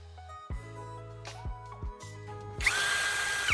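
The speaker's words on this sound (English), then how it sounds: "I'm using a drill to make two precise holes on the top cover of the charger casing." A power drill bores two holes in the top cover of a charger casing: a few short spin-up bursts, then a sustained loud whirring drill run, close and without talking.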